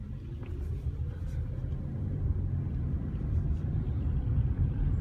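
A low, steady wind buffet and road rumble fill the cabin of a moving Toyota RAV4 Hybrid XLE with the window down, heard close and continuous.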